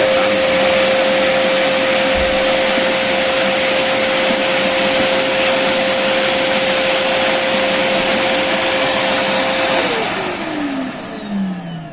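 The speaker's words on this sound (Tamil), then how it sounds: "இப்போ இந்த மாதிரி உங்கள்கிட்ட வேக்யூம் கிளீனர் இருந்துச்சுன்னா இந்த மாதிரி ஃபுல் ஹையாக வச்சுக்கோங்க" A vacuum cleaner runs at full high power, a loud, steady, close whine with a constant tone that holds for most of the stretch. Near the end it winds down, its pitch sliding lower.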